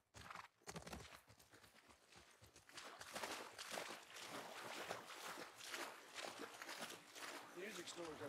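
Horses in the video game The Last of Us Part II clop their hooves in a loose, uneven rhythm over a rough, noisy outdoor background, moderately close.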